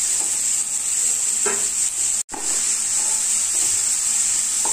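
Grated bottle gourd frying in hot ghee over medium heat, a steady, dense sizzle that runs unbroken apart from a brief cut near the middle, with occasional faint stirring scrapes.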